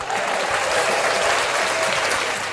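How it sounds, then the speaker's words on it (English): A room full of people breaks into a round of applause, dense steady clapping that stays loud and close throughout, with no talking over it. "I think we need a round of applause"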